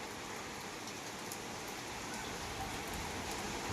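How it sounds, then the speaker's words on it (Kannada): Heavy rain pours down steadily, a dense, even hiss of drops striking surfaces close by with no pauses or voices. "ಅಷ್ಟೊತ್ತಿಗೆ ಮಳೆ ಸ್ಟಾರ್ಟ್ ಆಗಿಬಿಡ್ತಪ್ಪ, ಮಸ್ತ್ ಜೋರು ಬರತೈತಿ"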